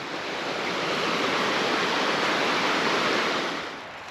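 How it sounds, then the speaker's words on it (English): A small creek crossing on a mountain trail rushes in a steady, loud broadband wash of flowing water, close by and with no voices, easing off slightly at the very end. "As soon as we get across this little creek crossing"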